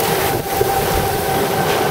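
Tornado in Waushara County, Wisconsin, roaring with a steady, loud, freight-train-like rumble that holds throughout, broad and continuous with no pauses.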